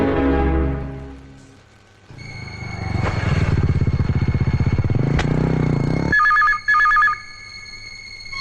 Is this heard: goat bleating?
no